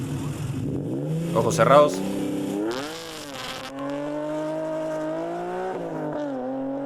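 A Honda NSX six-cylinder engine revs up and down in smooth, rising and falling sweeps, loud and close, while voices talk briefly over it.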